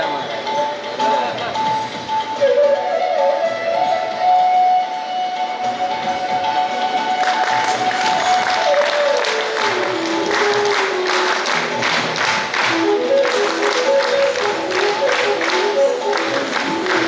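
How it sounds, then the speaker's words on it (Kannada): A large audience at a bhajan training workshop's closing ceremony in Dharmasthala claps loudly and steadily, the dense clapping building midway, over background singing or music with a voice heard early on. "ಜೋರಾದ ಚಪ್ಪಾಳೆ"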